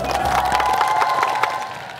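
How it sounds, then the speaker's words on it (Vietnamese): An outdoor audience at a Vietnamese game show cheers and claps for the final contestant, a dense, steady crowd roar with scattered shouts and no pauses. "xin bà con cô bác cho một tràng pháo tay cho người chơi cuối cùng của chúng ta ngày hôm nay nhé"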